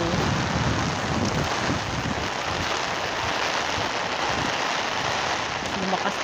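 Heavy rain pours down in a dense, steady, loud hiss, with wind-like rumble from the microphone, unbroken throughout.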